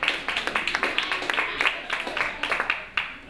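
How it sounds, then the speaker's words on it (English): Audience applause for a storyteller at a live show in a house, a steady patter of many claps, moderately distant and fairly soft, running throughout. "Let's give another round of applause for Siobhan and her story"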